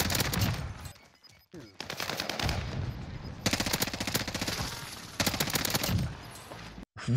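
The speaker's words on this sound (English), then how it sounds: "Look at that hip fire, boy." Rapid SMG hip-fire bursts in a Warzone match crackle in fast, loud volleys separated by short pauses, one burst after another, with faint game ambience between them.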